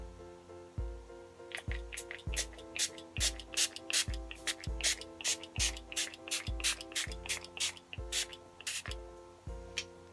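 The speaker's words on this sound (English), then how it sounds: "So now I'm going to go in with the Makeup Forever Mist" Makeup Forever Mist & Fix setting spray is pumped in a steady series of about a dozen short, hissing spritzes, close to the face. Faint steady background tones run underneath, with no talk.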